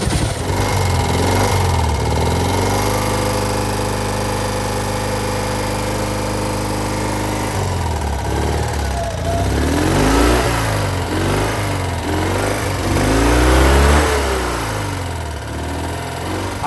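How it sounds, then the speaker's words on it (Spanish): A Citroën 2CV van's small air-cooled twin cranks on the starter, catches, then idles unevenly and revs in rising and falling bursts, loud and close throughout. "Esto es lo que acciona el motor de arranque. Y si, cuando coge, si quiere coger..."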